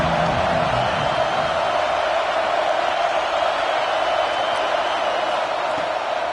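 Steady, dense roar of a stadium crowd in the NCAA 26 college football video game, a constant wash of cheering noise that holds at the same level throughout.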